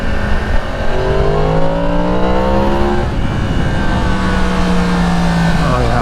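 A 2022 Yamaha MT-10 SP motorcycle engine rises and falls in pitch as it accelerates through gears at speed, loud and close with steady road and wind noise, alongside passing traffic.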